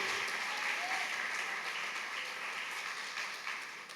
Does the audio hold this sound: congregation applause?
yes